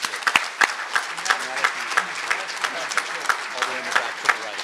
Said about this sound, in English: Let's give him an applause here.